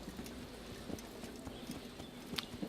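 Horse hooves clip-clop at a steady walking pace in Assassin's Creed I, a quiet, moderately close stream of soft repeated footfalls over a faint game ambience, with no talking.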